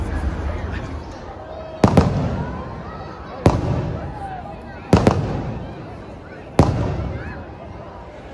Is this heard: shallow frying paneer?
no